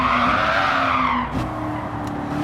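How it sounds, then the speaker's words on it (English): Tires squeal under brake lock-up on a 1966 Shelby Cobra heading into a corner in Gran Turismo 7. A loud, sliding screech rides over the engine for over a second, then the engine note carries on alone. "a bit of a squeal as we lock up the brakes into this corner"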